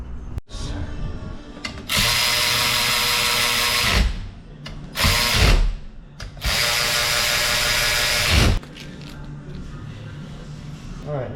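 Power tool driving 3/8 bolts on a Polaris RZR 900 clutch: three long, steady whirring runs of an impact or power driver, each cut off sharply, with clicks and clinks of metal parts between them.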